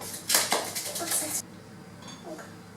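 Metal spoon clinking and scraping against a mixing bowl while baking powder is stirred into basic cake batter, a close burst of rattling strokes lasting about a second before fading to quiet room noise.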